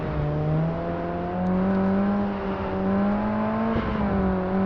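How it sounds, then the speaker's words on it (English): Engine drone of a slow rally car in the video game SLRE, a steady close whine with gently wavering pitch, continuous throughout. "Surprisingly enough, it has a very good engine sound."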